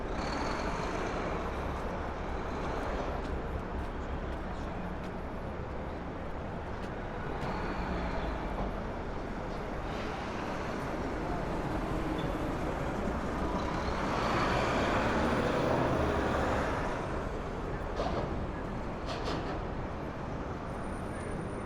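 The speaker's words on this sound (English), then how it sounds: "the buses are still active on 5th Avenue." Steady, loud city traffic on 5th Avenue in Manhattan, with buses and trucks rumbling past, hissing brakes and broad road noise that swells slightly midway and never lets up.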